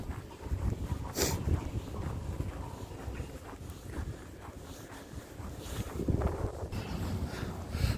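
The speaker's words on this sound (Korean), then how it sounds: "아우 바람. 우 칼바람 칼바람." Biting cold wind gusts hard outdoors, buffeting the microphone with a constant low roar and rumble, with faint scattered rustles underneath.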